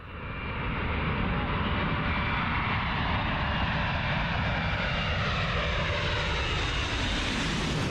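An Antonov AN-225 makes a low pass, its big engines building into a loud, continuous roar that holds steady and slowly shifts in pitch as the aircraft goes by.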